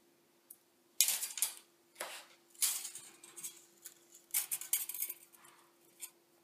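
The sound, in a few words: cutting aluminium wire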